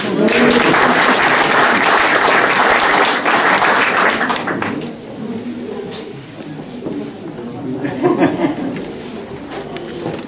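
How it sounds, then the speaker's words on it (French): Audience applause for a prize winner at a watercolour award ceremony in an exhibition hall, a dense wash of clapping that starts loud, dips briefly midway, then swells again with some voices mixed in. "Vous pouvez applaudir"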